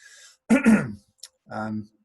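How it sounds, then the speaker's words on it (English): Two short, throaty coughs or throat-clears close to the microphone, followed by a brief bit of speech. "Excuse me, coughing because I'm talking so much"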